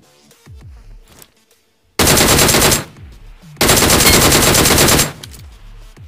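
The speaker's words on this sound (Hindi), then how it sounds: "रोजोक की पहाड़ी के आसपास से गोली चलने की आवाज आती है" Bursts of automatic gunfire near Rozhok hill in the BGMI battle royale game, two long loud sustained volleys of rapid shots separated by brief pauses, with quieter game sounds between.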